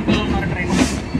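An ICF train at Rameswaram station, on platform 2, gives a loud, steady rumble with faint clattering of wheels and carriages, nearby and continuous over the short stretch, with no clear voices.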